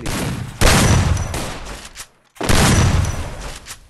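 Rapid automatic gunfire in a shooting video game sounds in two loud, close bursts, each over a second long, separated by a short silent gap.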